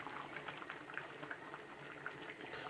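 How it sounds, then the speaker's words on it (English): A pot of stew simmers on the stove, giving faint, soft, continuous bubbling with small pops scattered through it and no voices. "leave it letting it just bubble away"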